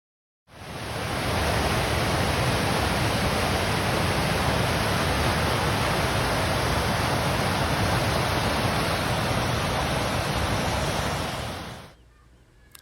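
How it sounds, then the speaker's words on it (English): Water rushing over river rapids in the Broken Bow and Beavers Bend area, a loud, steady, broadband roar that fades in, holds evenly for about eleven seconds and then cuts off. "You can just hear the peacefulness of the water."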